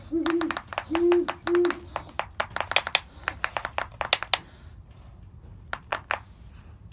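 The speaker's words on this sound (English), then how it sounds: "This is a defense mechanism used by owls to scare away predators." An owl's defensive display produces bursts of sharp, rapid clicking snaps in irregular clusters. Three short hooting tones come early, then sparser clicks follow after a brief pause.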